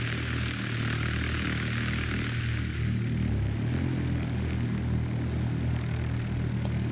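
A Piper Warrior II propeller aircraft in flight gives a steady, loud engine drone with a throbbing low hum that stays constant throughout, with no speech.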